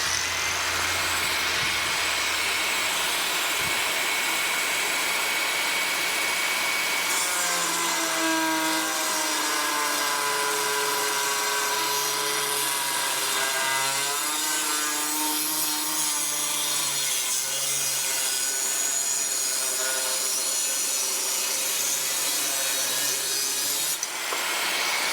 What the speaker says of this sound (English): the Dewalt cutting disc, and we're just going to cut through this half piece of square tube here, 11 gauge steel